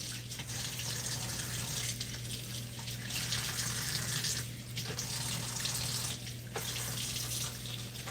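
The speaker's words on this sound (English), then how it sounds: "I'm going to put a little bit of salt in this water, and I'm going to look this and wash these leaves pretty good." Tap water runs steadily into salted water in a home kitchen sink as leaf lettuce from the grocery store is washed, a continuous gushing rush with faint splashes and a low steady hum underneath.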